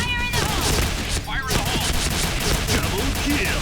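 Pindad SS3 rifle fire in the video game Point Blank, loud dense gunfire crackling continuously over busy battle noise, with a short burst of electronic chirps near the start.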